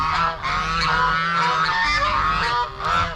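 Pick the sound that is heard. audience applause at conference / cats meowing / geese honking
geese honking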